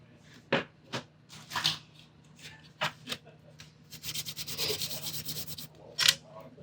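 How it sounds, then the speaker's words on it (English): The bottom of a handmade guitar nut is sanded in short strokes, a few separate rubs and then a longer rapid burst of scraping, close and fairly quiet. "I want to sand it a little bit and keep it fresh."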